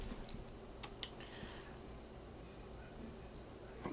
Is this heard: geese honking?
no